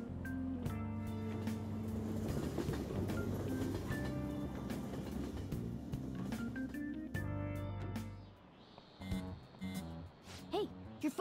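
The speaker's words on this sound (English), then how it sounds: "Now the train is here, let's get going then." In the video game Persona 5 Royal, a train rumbles and hums steadily at a moderate distance for several seconds, then its noise drops away into quieter clicks and soft tones as it comes to a stop.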